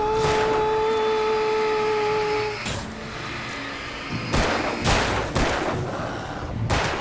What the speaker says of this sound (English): So these are like grenades